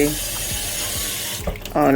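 Water runs steadily from a tap into a pot holding saltfish, a constant rushing stream with faint clinks underneath and a brief louder surge near the end.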